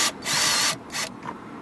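A 3.5mm bit drills into plastic on a Vauxhall Combo van fitting, two close bursts of high whining drill noise, the first longer, then a short faint tail, alone and near.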